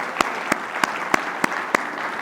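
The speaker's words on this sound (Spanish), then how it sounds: "Demos un fuerte aplauso" Audience applause at a conference session on mobility and health, a steady wash of clapping with sharp, evenly spaced louder claps standing out roughly every third of a second.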